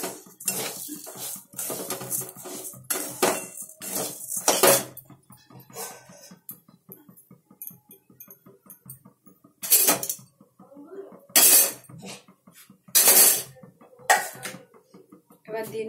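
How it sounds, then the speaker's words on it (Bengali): Moong dal and rice dry-roasting in a pan, stirred with a metal spoon: a series of sharp clattering scrapes and clinks in bursts separated by quieter gaps, close by, with some talking in between. "দেখুন মুগ ডাল আর চাল একসাথে ভেজে নিচ্ছি সুন্দর করে।"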